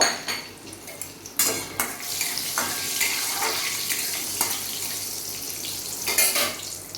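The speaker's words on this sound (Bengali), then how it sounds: "এবার আমি এর মধ্যে ফোড়নটা দিয়ে দেবো গোটা গরম মশলা আর তেজপাতা আর গোটা জিরে ফোড়নটা দিয়ে দেব" Whole garam masala, bay leaf and cumin seeds frying in hot oil for a Bengali-style chicken stew, a steady close sizzle broken by repeated clinks and scrapes of a utensil against the pan.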